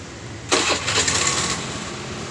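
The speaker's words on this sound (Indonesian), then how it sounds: "Kita coba nyalain mesin." A carbureted scooter engine cranks with a sudden burst and catches, settling into a steady, buzzing idle up close.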